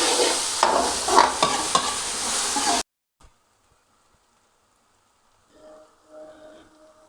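Chopped onions frying and being stirred in a pan for Bengali bhindi, a dense crackling sizzle with scraping strokes for about three seconds, then near silence with faint clinks and a soft murmur near the end.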